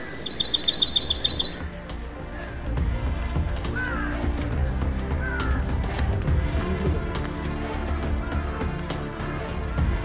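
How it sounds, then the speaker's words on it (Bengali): Birds calling in the Sundarbans mangrove forest: a rapid burst of high chirps up front, then scattered tweets and caws over a low rumbling ambience of wind or engine noise. "কতটা পরিমাণ পাখির আওয়াজ।"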